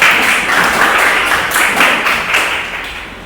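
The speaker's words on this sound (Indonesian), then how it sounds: "kita memberikan tepuk tangan yang luar biasa untuk kelompok terakhir" Classmates applaud the last group in a classroom presentation, a loud, steady burst of many hands clapping that continues evenly and begins to fade near the end.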